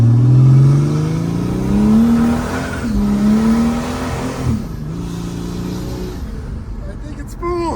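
Old diesel Mercedes with an OM603 engine and an HY35 turbo accelerating on a road, a steady loud engine drone rising in pitch through gears, with a brief shift around the middle and wind noise throughout.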